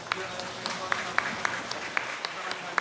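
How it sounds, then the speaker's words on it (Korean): A church congregation claps during a Sunday worship service. The claps are faint and spaced out in an even, rhythmic beat, with a soft murmur of room noise behind them. "감사와 긍휼의 박수를 돌리겠습니다."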